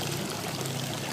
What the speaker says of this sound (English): So we have a natural spring, and it's hot sulfur water.